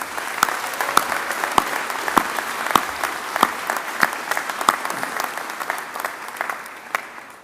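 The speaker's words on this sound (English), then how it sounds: "please let's give our graduates another big round of applause." Sustained applause for graduates at a Faculty of Arts and Society ceremony, a steady crowd of clapping with sharper individual claps standing out, continuing evenly throughout.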